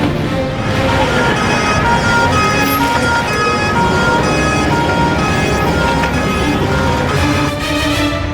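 An ambulance siren wails loud and steady on a moving ambulance leaving a hospital, its tone cycling repeatedly over the rumble of road traffic, with no voices.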